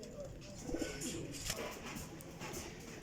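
Soft pigeon cooing murmurs close by in a short stretch, low and continuous over faint background noise.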